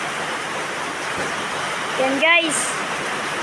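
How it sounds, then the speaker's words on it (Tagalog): Heavy rain from an orange rainfall warning pours down steadily, a broad hiss of water close by, while a person speaks briefly over it. "Lakas ng ulan."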